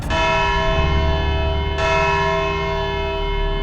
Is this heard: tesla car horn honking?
no